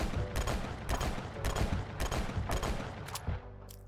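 Mateba 6 revolver fired in the Phantom Forces video game: about six evenly spaced, punchy shots in quick rhythm, loud and close, then a short quiet tail.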